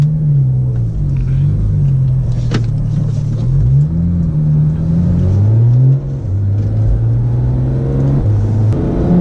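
A 2017 Porsche 911 GT3 engine is heard on the move, a loud, steady, close-up drone that rises and falls in pitch as the car shifts and accelerates, with no talking over it.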